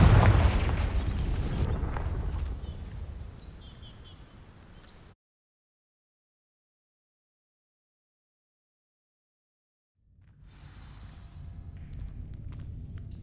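A Confringo fire spell from Hogwarts Legacy blasts and explodes, setting dry vines alight: a loud booming burst that rumbles and fades over several seconds, then cuts to silence before softer game ambience returns.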